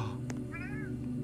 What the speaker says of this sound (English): The cat's like, meow.